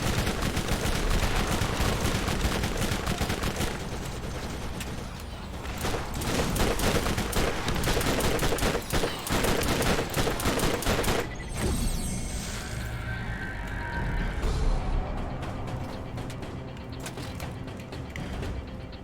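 Turret gunfire in the video game Borderlands, dense continuous bursts of automatic shots and mechanical clatter going on for the whole stretch, loud and busy with no talking over it.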